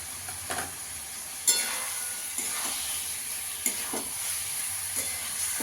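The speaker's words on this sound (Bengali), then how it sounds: "চালটা দিয়ে ভালো করে ভেজে নেব।" Soaked rice sizzling and being stirred in a pan for paneer pulao, a steady frying hiss broken by a few scraping spatula strokes, close and alone.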